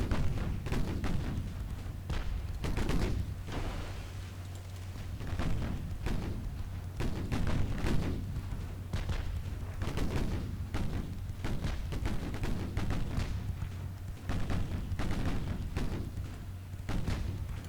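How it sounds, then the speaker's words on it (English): Naval artillery gunfire in a 1940 British battleship duel off Norway in the game Ultimate Admiral Dreadnoughts, with repeated heavy booms and thuds at irregular intervals over a constant low rumble, loud and without talking. "The gunfire exchange is not really working in our favor at the moment."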